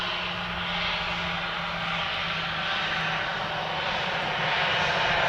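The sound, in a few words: airplane taxiing at Edmonton International Airport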